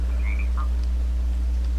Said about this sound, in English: these are 2, red-eyed tree frogs in this little enclosure here